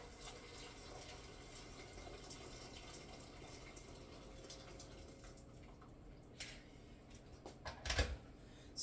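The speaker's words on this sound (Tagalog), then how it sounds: "Tubig po na mainit, natin pong ilagay para madali na pong kumulo." Hot water is poured into a cooking pot to bring it to a boil, making a steady, fairly quiet gushing fill that runs throughout and ends in a brief louder splash.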